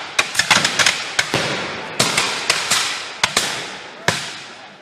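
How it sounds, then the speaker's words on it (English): Artillery guns fire at a historical battle reenactment, a series of sharp booming reports at irregular intervals, some in quick clusters, each trailing off into a rumbling echo across open ground. "the artillery are having a little duel going on here"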